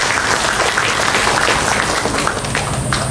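An audience applauding at a literacy event in East Nusa Tenggara, Indonesia, giving a dense, steady burst of clapping from many hands that fills the room for about three seconds.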